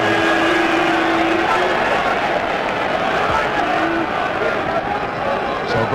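A large Wrexham football crowd roars and cheers continuously through a cup quarter-final second leg against Anderlecht, a dense steady wall of sound with a commentator's voice running over it.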